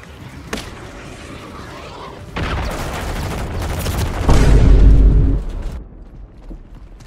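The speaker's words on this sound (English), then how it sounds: "Friendly cruise missile deployed." Cruise missile strikes in Modern Warfare 3 multiplayer: loud, close rumbling blasts with crackling debris that build to a heavy booming peak, then drop away into quiet.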